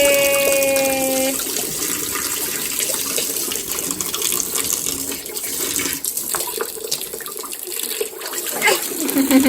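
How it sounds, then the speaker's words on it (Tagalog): Water running from a household tap, a steady broadband splash and hiss lasting throughout, fairly close, with brief tonal sounds at the start. "Oh, the water coming out."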